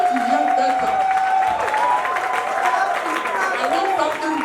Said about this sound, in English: with a standing ovation and a thunderous round of applause